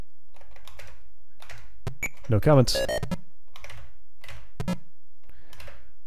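Computer keyboard keys tapped in short irregular bursts during a tabletop game session, light clicks spread across the clip with a brief louder burst of activity in the middle.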